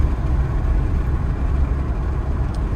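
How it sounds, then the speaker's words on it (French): Audi S1 engine with a modified air filter, running steadily with a low, continuous rumble that sounds like idling or light revving, heard close and alone without talk, the turbo whistle not clearly distinct. "On entend vraiment ce bruit de turbo."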